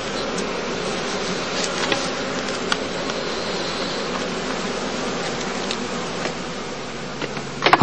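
Honeybees hum continuously around straw skeps at a heathland apiary during heather bloom, a dense, even drone of many insects close by, with occasional louder passes and no voices.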